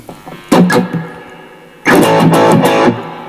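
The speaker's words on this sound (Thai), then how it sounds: "ผมจะเปิดแอมเป็นไดนะครับ แล้วเปิดรีเวิร์บเหมือนเดิม" Two bursts of electric guitar through an overdriven amp, a short phrase then a louder strummed chord, with reverb tails ringing out between them.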